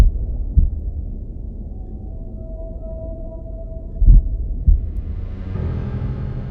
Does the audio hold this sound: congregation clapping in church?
no